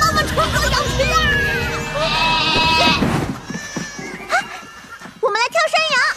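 A cartoon flock of sheep bleats in wavering, overlapping cries close up, mixed with excited character voices shouting over them and some quick chase sound effects.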